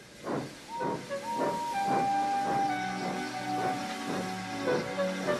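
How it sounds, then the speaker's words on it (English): A cartoon steam engine, underpowered by poor coal, hisses steadily while struggling for steam, with a sustained whistle-like tone and rhythmic chuffing bursts that slow as it labors, loud and close throughout. "He didn't have enough steam and came to a stop outside Edward's station"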